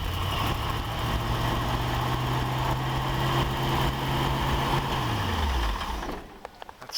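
A stone-cold 1932 Plymouth car engine runs with a loud, steady low rumble close by, then winds down and drops away in the final seconds.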